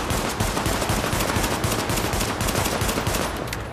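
Sustained rapid gunfire in the video game Tom Clancy's The Division, during the Lincoln Tunnel mission, with a pistol firing in a dense, continuous burst of loud overlapping shots lasting throughout.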